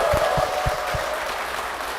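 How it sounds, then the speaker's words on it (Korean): Church congregation clapping to welcome two guests onto a televised program, a moderate steady patter of hands with a few low thumps, somewhat distant and even. "두 분 박수로 모시겠습니다."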